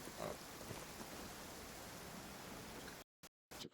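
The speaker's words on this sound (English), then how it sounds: "It's really raining hard here," Heavy rain falls in the video game Genshin Impact, a dense, even hiss of downpour filling the scene without talk, then cutting out in short gaps at the very end.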